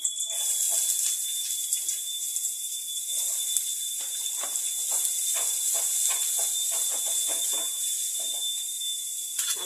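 Onions sautéing in a pan produce a constant bright sizzling hiss, broken by a dense run of crackles and spatters, heard close with no talking.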